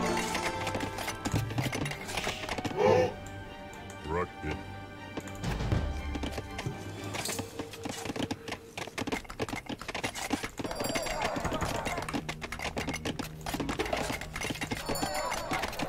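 Horse archers' hooves clop steadily in Age of Empires II: Return of Rome, a busy rhythmic patter of many hooves mixed with game music and battle effects, with no speech.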